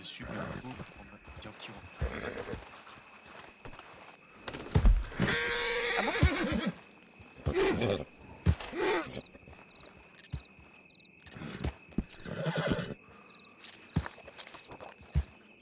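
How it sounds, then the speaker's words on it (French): In a video game, a horse gives a loud, close whinny midway, and hooves clop along the ground around it. People talk over much of the scene. "Vous appelez votre cheval"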